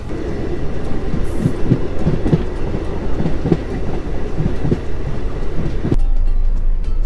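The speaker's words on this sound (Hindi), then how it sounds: "ये लोकल ट्रेन ही DMU ट्रेन है" A local DMU passenger train running on rails, heard from inside, with a steady rumble and regular clickety-clack beats from the wheels, continuous throughout, with a brief shift in the noise near the end.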